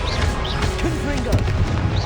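Confringo spell blast in the Hogwarts Legacy video game, a dense booming burst over continuous game noise, with short whooshing magical tones layered on top.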